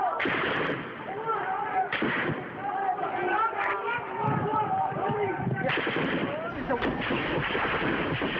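Gunfire at a street protest in Syria during a violent crackdown, cracking out repeatedly amid a chaotic crowd with shouting voices throughout.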